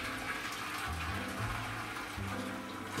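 Hot water pours into a bowl for baking sourdough white bread in a hot oven, a soft, steady gush and trickle heard close and alone.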